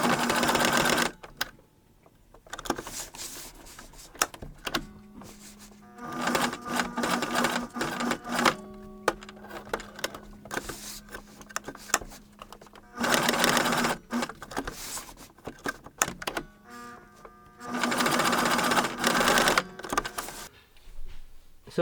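Sewing machine stitching leather pieces for a cosplay outfit, running in repeated bursts of rapid mechanical chatter separated by short pauses.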